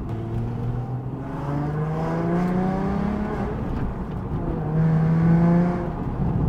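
A 2000 VW New Beetle RSI engine revs hard and climbs through the rev range, rising harmonic whine sweeping up in repeated pulls, loud and close with no talk over it.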